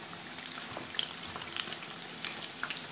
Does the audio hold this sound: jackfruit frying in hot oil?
yes